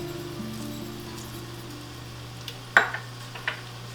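Ground beef frying in a pan for stuffed shells, a soft sizzle over a low steady hum, broken by a couple of sharp utensil knocks near the end.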